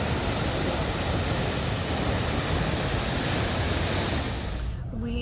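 Nevada Falls at Mount Rainier, glacier-fed cold water pouring down, gives a loud, steady broadband rush that holds evenly before dropping away at the very end.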